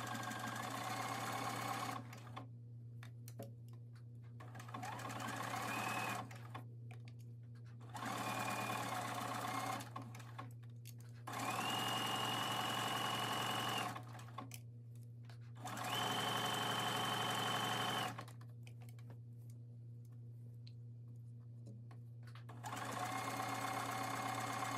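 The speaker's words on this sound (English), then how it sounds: "let's sew that binding into the armhole" A sewing machine stitches binding into a garment armhole in several sustained runs of steady whirring, each a few seconds long, separated by pauses over a constant low hum.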